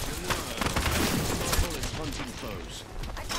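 Enemy gunfire in Apex Legends: rapid bursts of shots and clattering impacts crowd the scene, loud and close, with a player voice faintly in the mix.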